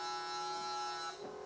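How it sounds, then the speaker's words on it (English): A 1965 Malibu SS windshield washer pump whirs with a steady electric buzz like a small vacuum cleaner, running continuously and close before winding down at the end. "wiper pump. Sounds like a vacuum cleaner."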